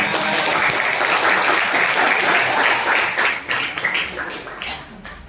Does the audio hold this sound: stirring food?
no